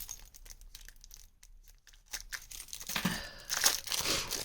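Someone cuts and pulls open a well-sealed package holding a handmade mini book. Soft snips are followed by louder crinkling and tearing of the wrapping, heard close up with no speech.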